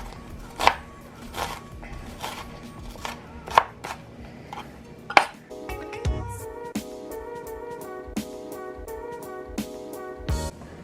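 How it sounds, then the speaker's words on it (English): A knife chops through food on a cutting board for a Mexican meatball soup, sharp knocks repeating at a loose, uneven pace over faint background music with tonal notes, close and fairly loud. "I'm holding it together so that it doesn't fall apart, so that when I cut it this way, it's easier."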